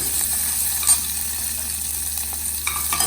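A vaghar tempering sizzles hard in a pan of hot oil while it is stirred, a steady close hiss broken by a few brief scraping clicks.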